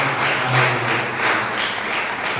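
Church congregation at a Sunday service clapping hands together in a steady, dense wash of applause that fills the room without pause.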